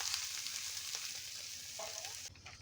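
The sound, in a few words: coconut milk added to frying spices in pan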